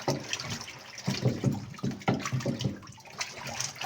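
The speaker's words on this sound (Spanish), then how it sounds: "Y aprovechando el agua que está aquí, se va quitando todo el barro que tiene pegado." A brush scrubs caked mud off a Haier twin-tub washing machine in standing water, making steady sloshing and rhythmic scraping strokes, fairly close and continuous.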